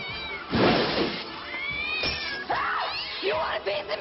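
A cat in a comedy horror movie trailer meows and yowls in loud, drawn-out caterwauling cries over a busy soundtrack with music and crash-like effects.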